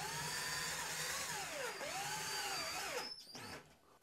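A power drill drives small self-tapping screws through a pipe into a trim ring, a loud continuous whine that rises and dips in pitch as the motor loads, then winds down near the end.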